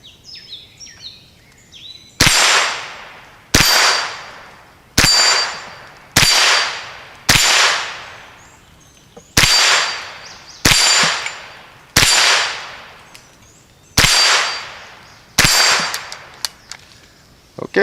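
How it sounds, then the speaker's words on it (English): Ten sharp gunshots from an ATI GSG16 rifle firing Browning and Winchester rounds, spaced about a second apart with a bright crack and a short decaying ring after each, loud and close, with no talking. "all the Browning and the Winchester fired great"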